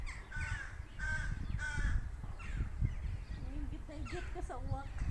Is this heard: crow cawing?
yes